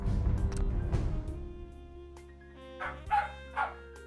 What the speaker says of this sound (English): Dog's going crazy.